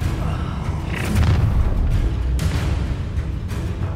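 An Incendio fire spell blast from the game Hogwarts Legacy: booming, crashing bursts layered over a continuous loud rumble, with several impacts in quick succession during combat.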